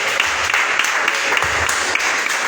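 Congregation applauding during a church service, a steady dense wash of clapping hands filling the room, fairly loud and continuous with no talk over it.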